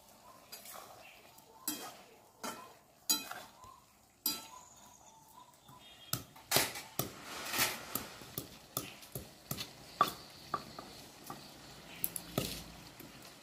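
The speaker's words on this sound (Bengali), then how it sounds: "সুইট ঝালটা বাটবো।" Sweet chili being ground into paste at home in a Bengali kitchen, with irregular scraping, tapping and squishing strokes that start sparse and grow into a steady rapid rhythm, close and moderately loud.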